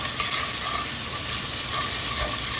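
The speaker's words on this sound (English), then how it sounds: "I'm going to add the curry paste and stir that around." Thai red curry paste stirred in a hot pan, a steady bright sizzle and frying hiss with faint scraping, continuous and close throughout.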